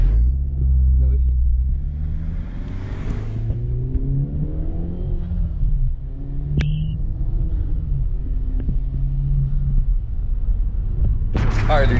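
A MINI with a burble-tune exhaust mod accelerates hard up through the gears, its engine a deep rising drone with shifts and a crackle at the end, under a voice talking nearby.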